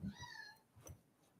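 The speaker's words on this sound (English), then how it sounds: "And the cat getting on my damn nerves." A cat meows loudly and close by, a single drawn-out call with a rising, wavering tone, followed by faint softer sounds in a quiet room.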